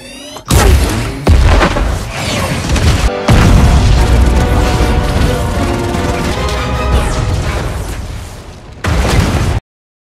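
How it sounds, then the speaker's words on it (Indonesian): A huge explosion destroys a military base in a film, a loud booming blast with crashing debris and rumbling that carries on for several seconds, followed by a second burst near the end. "Sebuah ledakan yang luar biasa menghancurkan markas Harlan beserta pasukannya"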